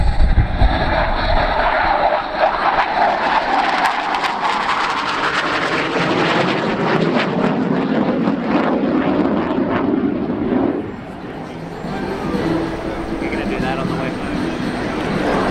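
An RAAF BAE Hawk 127 jet makes an inverted aerobatic pass at the Avalon Airshow 2017, its loud, steady engine roar filling the clip while a commentator talks over it.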